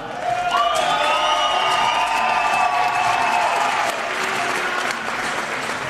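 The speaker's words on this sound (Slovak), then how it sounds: "jeden obrovský potlesk pre dubnickú boxerskú legendu trénera Dušana Bučka" Large crowd applauding at a boxing event for a veteran boxing coach, with loud dense clapping, cheering and whistles throughout, easing slightly toward the end.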